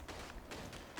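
Gunfire in the World War One shooter Verdun comes as faint, muffled bursts of rifle fire, a few shots spaced irregularly across a second.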